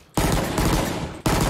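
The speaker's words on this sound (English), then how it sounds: "So the Bulldog is like a lighter assault rifle." Bulldog assault rifle from the video game Valorant firing loud, rapid automatic rounds at close range, with two continuous stretches of fire separated by a short gap.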